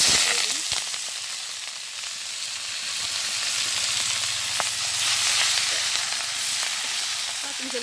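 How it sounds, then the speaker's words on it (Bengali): Pui greens, potato, pui stems and banana for a Bengali chorchori sizzle steadily in hot oil, a continuous close hiss broken by a few sharp clinks and stirring scrapes, with no talking. "তো আমার তেল গরম হয়ে গেছে, এখন চচ্চড়িটা দিয়ে দিই।"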